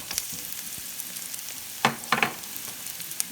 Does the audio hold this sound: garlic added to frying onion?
yes